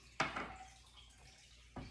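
Hot water poured over tea leaves during Taoist gong fu brewing, a brief close pouring splash that trails off quietly, followed by a second short pour starting at the end.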